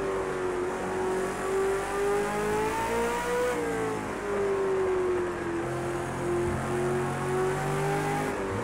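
A V8 Supercar engine in Project CARS 2, driven at the Circuit of the Americas, drones steadily as the throttle is fed gently, its pitch rising and falling in smooth, sustained waves without speech.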